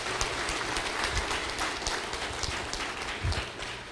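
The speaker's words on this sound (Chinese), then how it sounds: "我们再次以热烈的掌声，谢谢校长、立委带来的演讲" An audience claps after a school principal's lecture at a meeting in Taiwan, making a dense, steady wash of applause that stays at an even level throughout.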